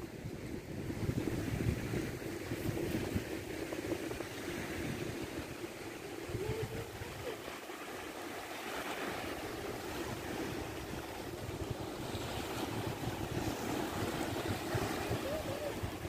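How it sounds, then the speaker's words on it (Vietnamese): Rough sea surf and gusting wind on a dark, rainy holiday beach, a continuous loud roar of breaking waves with buffeting wind noise on the microphone throughout. "Biển lớn nữa chứ. Đang mưa các bạn."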